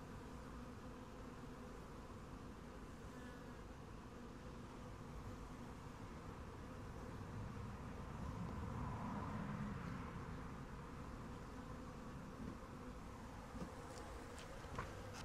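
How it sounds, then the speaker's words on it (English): A dense swarm of honeybees hums steadily around an open hive frame, a continuous close drone that swells slightly midway, with no talking. "Look at this bee right here doing the waggle dance."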